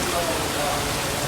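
Rain pours in a dense, unbroken hiss at a house construction site in the Philippines, with a voice faintly present beneath the wash.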